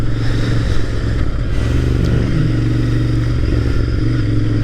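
A Royal Enfield Interceptor 650 motorcycle cruises along a road toward town, its engine giving a loud, steady, close-up drone with a strong low-end rumble and a few slight shifts in pitch, with no talking.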